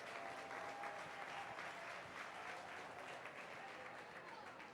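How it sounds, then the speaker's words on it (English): Crowd applause at a 4-H sheep show and lamb lead, a faint, distant, even wash of clapping that holds steady throughout. "Give these kids a big round of applause to be out here in this champion drive,"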